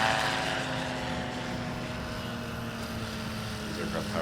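Propeller drone of a STOL aircraft with a supercharged, fuel-injected 150 hp Rotax 912 engine at a STOL competition, a steady distant hum with a constant tone and broad wind-like noise throughout, no clear speech.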